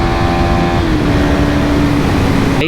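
A KTM Duke 250 motorcycle engine roars loud and close with a steady tone that steps down in pitch, as under hard downshifting with the slipper clutch engaged, without speech.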